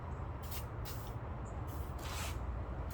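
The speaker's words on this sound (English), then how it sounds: "put a little WD-40 on the rotating mechanism" WD-40 is sprayed onto the seized rotating mechanism of a lawnmower in four short hissing aerosol bursts, close up, over a low background rumble.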